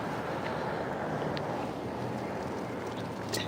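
Steady wind rushes and buffets the microphone in an outdoor spot, a constant broadband roar with no speech over it.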